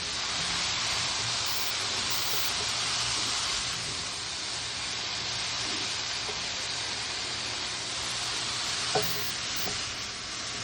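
Food frying in a pan at medium heat, a steady loud sizzle with faint scrapes as it is stirred and a small clink near the end, no voices.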